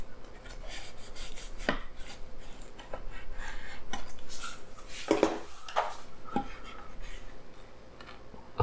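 A knife slices through a Philly cheesesteak sandwich on a board, several sharp chopping knocks at irregular intervals over faint background clatter.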